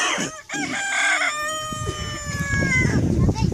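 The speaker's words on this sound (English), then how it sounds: "Got the chickens going off over here." Rooster crowing loudly and nearby at a rural home in Malawi, one long drawn-out crow followed by clucking chickens and farmyard chatter.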